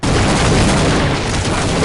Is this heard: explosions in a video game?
yes